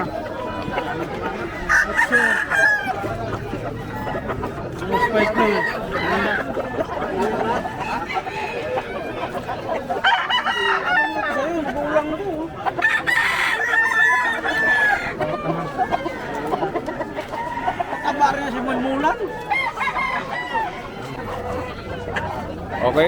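Several fighting roosters crow repeatedly, close by and loud, over clucking and people chatting in the background at a pet market in Malolos.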